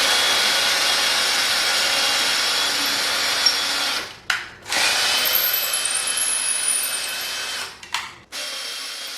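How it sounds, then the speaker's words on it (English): A power drill with a 3/16 bit bores holes for a modern address plaque sign, whining steadily at close range, then cutting out briefly twice before starting again. "it says to use a 3/16 drill bit, which I have right here, for the official holes."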